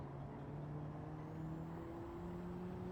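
Honda Civic Type R in a racing video game, taken fast through corners on the Eiger Nordwand track, with a faint continuous engine hum whose pitch drifts slightly as it steadies.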